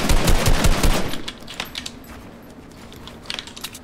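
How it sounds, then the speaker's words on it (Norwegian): Loud video game gunfire, a rapid automatic burst of close, sharp shots for about a second, then scattered softer clicks and distant pops that pick up again toward the end. "Pass på skuddet, for dette er veldig høyt."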